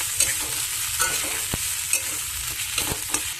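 Loud, steady sizzling of onion stalks frying with scraping and clinking as a utensil stirs the pan, several sharp knocks scattered through.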